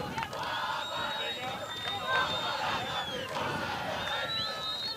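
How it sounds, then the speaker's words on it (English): Boys cheer and shout from the crowd at a girls' schools football championship final between Malawi and South Africa, a continuous excited roar of voices with higher whistles and yells rising over it. "Are those the boys from Malawi cheering on their girls' team?"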